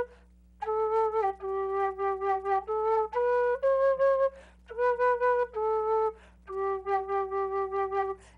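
A whistle is played up close in a series of clear, sustained notes that step up and down in a short melody, with brief gaps between phrases and no talking.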